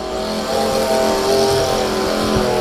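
A gardener's grass-cutting machine runs nearby with a loud, continuous engine drone that holds steady throughout, with no talking.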